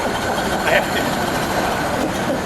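A 1929 Ford Model A Roadster engine idles with a continuous low rumble and even hum, fairly close, while a voice talks over it.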